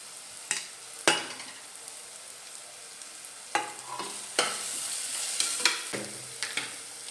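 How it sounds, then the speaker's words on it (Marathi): Crushed ginger and garlic tipped into a hot pan with tomatoes, crackling and sizzling loudly at close range, with several sharp bursts of frying and stirring scrapes over a steady hiss. "आता टाकते ठेचून घेतलेलं आलं लसूण."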